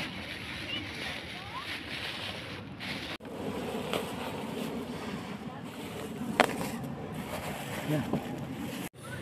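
Sea waves wash along a wide beach as a faint, continuous surf and wind rush. A person speaks briefly over it.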